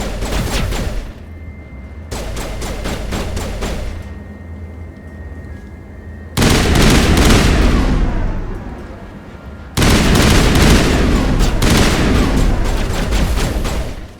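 Sustained gunfire in Mass Effect 1, dense rapid bursts of shots in loud volleys separated by brief lulls, the later salvos heavier and more crowded.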